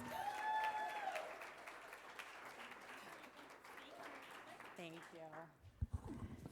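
A meeting audience applauds a guest speaker being welcomed at a wellness task force session, steady clapping filling the room from the start, then thinning out as a voice begins talking near the end.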